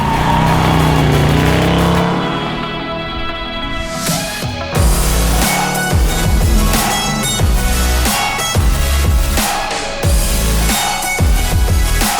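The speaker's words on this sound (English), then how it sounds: "Outside, you'll know that it's got a healthy V8." A deep LS1 V8 engine swapped into a 1987 Jaguar XJ6 rumbles and revs loudly through dual Flowmaster mufflers, surging in repeated throttle blips with a throaty exhaust burble between them.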